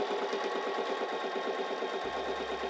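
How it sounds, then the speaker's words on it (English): A Singer Simple 3337 sewing machine runs a straight stitch in a steady, fast mechanical whir with a rhythmic needle pulse, loud and close, with no voices. "So let's press down on our foot control for a straight stitch."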